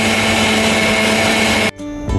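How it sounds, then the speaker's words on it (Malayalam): A mixer grinder blending roasted coconut for a chicken curry roars loud and steady up close, then cuts off abruptly near the end, leaving a brief quieter tail. "അപ്പോഴേക്കും നമ്മൾ വറുത്ത് വെച്ച് തേങ്ങ ഒന്ന് മിക്സിയിൽ ഗ്രൈൻഡ് ചെയ്തെടുക്കാം."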